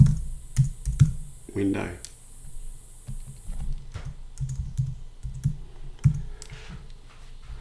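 Scattered keystrokes on a computer keyboard as alt text is typed for a website image, close and crisp with uneven pauses, while a voice speaks briefly.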